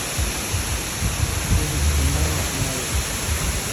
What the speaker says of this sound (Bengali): আজকে আবার সেই ঝর্ণার সামনে এসেছি